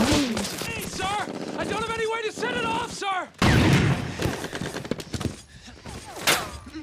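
Bursts of gunfire in a war scene from the Band of Brothers episode Day of Days, a loud broadband volley erupting after a stretch of dialogue and continuing under more voices and battle noise.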